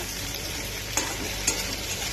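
Vegetables tipped into onions fried until reddish in a pan for rohu fish curry, a dense continuous sizzle up close with a couple of sharp clinks of a utensil.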